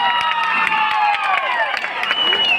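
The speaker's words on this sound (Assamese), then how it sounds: "অকণমান হাত তালি মাৰি দিলে ভাল লাগিব একেলগে" Audience at a Rangali Bihu programme in Gogamukh clapping and cheering together, a dense, steady wash of applause with shouts from a lively crowd throughout.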